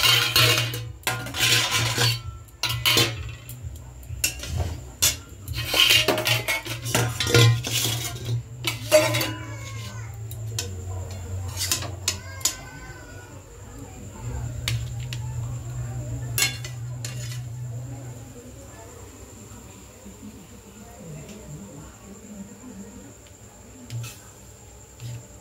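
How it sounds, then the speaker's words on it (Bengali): Chowmein served into bowls with dishes and cutlery clinking close by, busiest in the first half with sharp clanks and scrapes, then quieter handling of utensils later. "এই চাউমিনগুলো বেড়ে নিই।"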